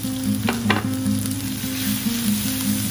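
Dried shrimp sizzling and crackling in hot oil as it is stir-fried for mushroom shrimp chicken rice, a steady close frying hiss with a few brief scraping stir sounds.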